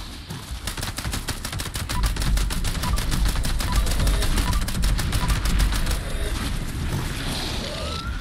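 Rapid automatic gunfire from Fallout 76, a long even burst of evenly spaced shots, loud and continuous, with a deep rumble underneath.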